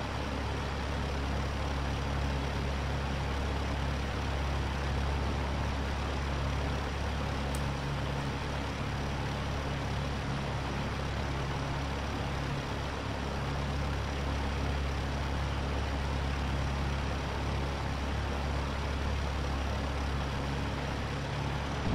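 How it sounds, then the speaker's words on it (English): The Lancair Legacy light aircraft taxis quickly in FSX, its engine droning in a steady low hum throughout, with no distinct braking noise standing out. "You can see she'll bounce and give you that braking sounds."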